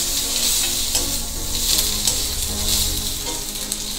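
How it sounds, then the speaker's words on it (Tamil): Steady crackling sizzle of chayote peel, green chillies and ginger frying in hot oil, close and fairly loud, with occasional stirring scrapes and no talking. "இது எல்லாமே வதங்கணும் எண்ணெயில்."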